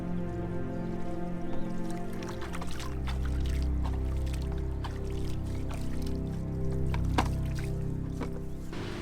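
Someone soaking in a farm water trough used as a hot tub: soft sloshing and squishy splashes with low gurgling water movement, close by and continuous, with occasional small drips.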